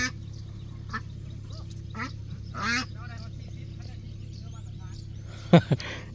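Laying ducks on a rural farm in Laos quack now and then, fairly faint and spread out, over a steady low hum. A couple of sharp louder calls come near the end.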